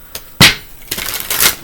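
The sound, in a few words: tarot cards being shuffled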